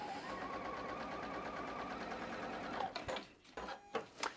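A sewing machine chain-pieces quilt star blocks, stitching steadily and evenly for about three seconds before stopping, followed by a few short handling bumps and rustles.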